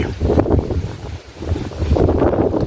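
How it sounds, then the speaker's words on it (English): Steady wind buffets the microphone in low, rumbling gusts that swell, dip briefly, then rise again outside a villa in Murcia, Spain; no voices. "It's getting a little bit windy"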